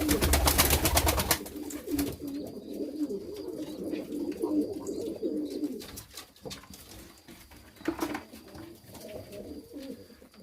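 Pigeons cooing during evening feeding, with soft repeated coos and rustling throughout, louder busy flapping noise at the start and scattered chirps later.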